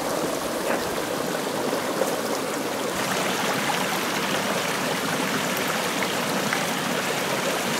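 A small stream about four to eight inches wide, flowing steadily and loudly close by, an even burbling wash with no voices.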